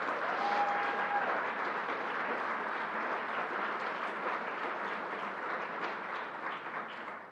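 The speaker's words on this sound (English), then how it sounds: "Let's give it a big round of applause." Crowd applauding at the opening of LEGOLAND New York theme park in Orange, a broad, sustained roar of clapping from many people, even and steady throughout.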